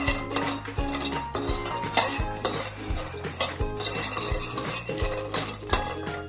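Cashews being dry roasted in a pan, with a steady rhythm of metal spoon scrapes and clinks against the pan under a faint sizzle.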